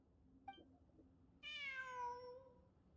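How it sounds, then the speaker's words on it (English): In the Genshin Impact video game, a cat gives one clear, drawn-out meow. It comes after a short faint chirp, against quiet background ambience. "It really is a cat."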